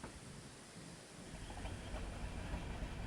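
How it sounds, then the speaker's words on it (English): Toy steam engine Thomas puffing steadily along a track, a continuous chuffing rush with faint rail clatter, close and moderately loud throughout. "And Thomas quickly puffed away."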